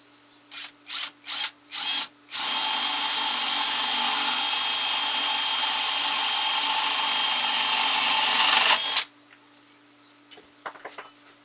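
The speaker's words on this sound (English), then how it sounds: "I'm going to use a 5/8 inch bit here to start these holes" A power drill with a 5/8 inch bit bores eye holes in a carved wooden ventriloquist figure: several short trigger bursts, then a sustained loud whirring cut of about six seconds, followed by faint handling noises.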